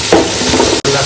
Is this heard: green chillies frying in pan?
yes